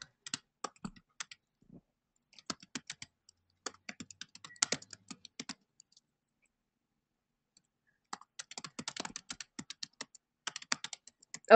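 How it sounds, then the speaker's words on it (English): Typing on a computer keyboard: quiet, close bursts of rapid key clicks in two main runs separated by a few seconds of near silence. "I'm just typing what I'm getting into the chat."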